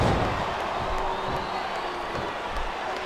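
A capacity wrestling arena crowd roars and murmurs in a dense, steady wash of cheering, heard from a distance at moderate loudness with no single voice standing out.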